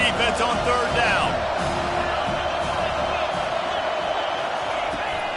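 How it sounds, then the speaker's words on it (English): Steady roar of a college football stadium crowd getting behind the defense on third down, a dense, constant wall of noise running under a play-by-play announcer's commentary. "Decibels rising as the crowd gets behind this defense on third down."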